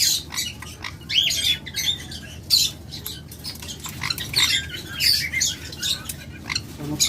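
An albino pair of pet birds gives repeated shrill squawks and chirps at close range, in uneven bursts, while someone talks over them.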